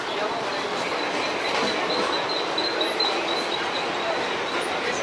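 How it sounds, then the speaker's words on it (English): A Mumbai local train rolling along, loud continuous rumble and rushing noise with a steady high metallic whine from the wheels, heard from aboard the moving train. "Taking the local train, man."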